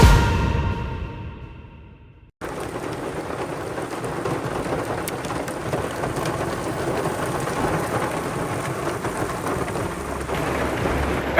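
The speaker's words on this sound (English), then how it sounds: "I got caught in this torrential" Heavy, steady downpour roars close by, broadband and continuous, with low thunder rumbling underneath after a brief quieter moment at the start.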